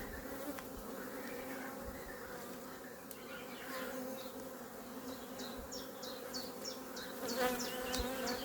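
Agitated honeybees swarm around an opened hive during an inspection, their dense, steady buzzing filling the space close by. Sharper individual whines from bees flying past rise above the hum.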